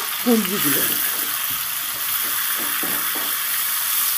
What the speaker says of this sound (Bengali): কুঁদরিগুলোকে দিয়ে ভালো করে নেড়ে চেড়ে আমি একটু ভেজে নেব